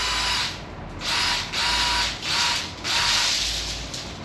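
A power drill twists and unwinds scrap copper wire, whirring in repeated bursts of roughly half a second to a second with short pauses between, loud and close with no talking.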